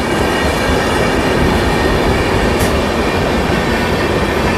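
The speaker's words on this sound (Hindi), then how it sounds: "ट्रैक साउंड सुने, इस गजब का ट्रैक साउंड आ रहा है।" The Jharkhand Swarna Jayanti Express, running from Hatia to Anand Vihar, clatters loudly over railway track in a continuous dense roar of wheel noise, heard close up from on board with no voices.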